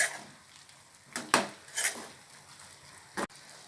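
Snake gourd kootu being stirred with ground paste in a metal pot, giving a few scattered scraping clinks and louder spoon knocks against the pan, close and fairly quiet, with no talking.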